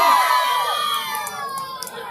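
Crowd shouting at an outdoor tug of war contest, a dense burst of voices and cheering that slowly fades, with a few sharp claps near the end.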